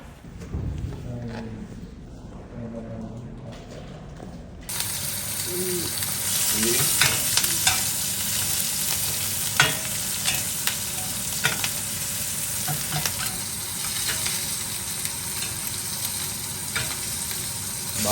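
Garlic frying in a hot pan, a loud continuous sizzle that bursts in suddenly after a quieter start, with scattered crackles and stirring clinks throughout.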